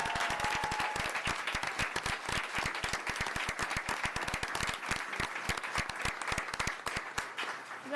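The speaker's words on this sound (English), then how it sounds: "Can I have one more round of applause?" A school board meeting audience gives a round of applause, crisp individual claps distinct within a sustained, even burst of clapping that continues for the full eight seconds.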